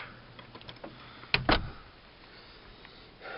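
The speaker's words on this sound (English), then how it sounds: "Shut this door." Closet door being shut indoors, a quick pair of close knocks from the latch and frame, followed by quiet.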